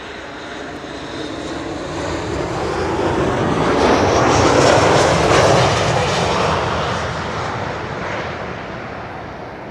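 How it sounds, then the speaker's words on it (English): A Transavia airliner arriving from Alicante roars past at Schiphol, its engine noise swelling to a loud broad rumble mid-pass and then fading steadily as it moves away. "Gives us time to film the arrival of Transavia flight 6142,"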